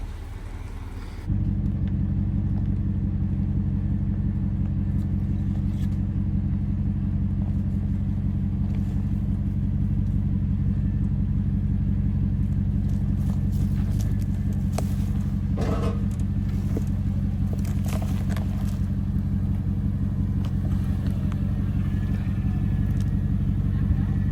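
A Jeep Wrangler or INEOS Grenadier crawls over an obstacle on an extreme off-road course, its engine giving a steady, close low rumble that holds nearly constant throughout, with occasional faint clatter above it.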